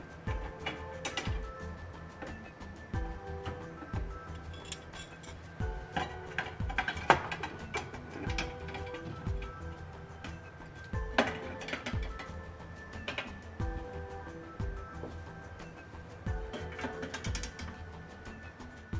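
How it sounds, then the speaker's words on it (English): Plastic rod clips snapping into the holes of wall-mounted closet rail brackets, a series of sharp clicks and rattling plastic knocks in irregular bursts, close and fairly quiet, with no talking. "The rod clips insert into the bottom of the holes of the brackets and they snap in place."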